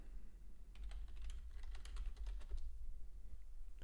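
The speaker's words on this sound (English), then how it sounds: "If you do hear typing, that's just me making alerts in the private community that I offer." Rapid typing on a computer keyboard, a quick flurry of light close key clicks that thins out toward the end over a low steady hum.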